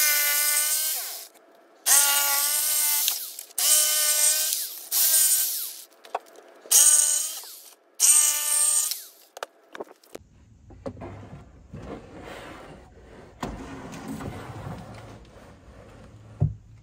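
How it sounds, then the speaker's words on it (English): A jigsaw cuts openings, six loud bursts of buzzing reciprocating cutting separated by short pauses, then quieter handling and shuffling noises. "We'll just get a jigsaw real fast and make those cuts."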